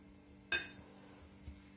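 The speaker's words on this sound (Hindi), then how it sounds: "ये मेरे पास है बड़ा कप, इसमें मैं डालूंगी 2 चम्मच भर के कॉफी के" A metal spoon clinks against a big cup while coffee is scooped in, one sharp bright ring that fades quickly, followed by a faint softer tap a second later, close and quiet.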